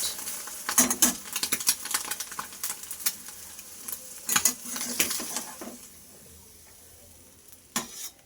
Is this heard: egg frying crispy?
yes